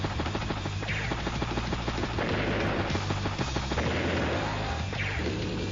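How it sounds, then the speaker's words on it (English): Missile strike on a bomber in the Advance Wars: Days of Ruin video game, a dense burst of loud game combat noise with rumbling engine drone, crashing impacts and rapid gunfire-like bursts, continuous with no speech. "The missile does get a good strike there on the bomber."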